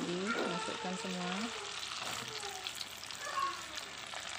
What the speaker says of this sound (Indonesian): Ditumis menggunakan mentega. Kita aduk lagi.